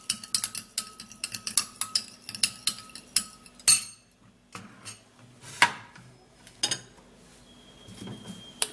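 A metal spoon clinks and taps rhythmically against a container while stirring papaya seed juice, with sharp irregular strikes close by and short pauses between bursts.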